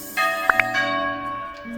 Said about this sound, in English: church bells are normal here every hour or so, or every 30 minutes sometimes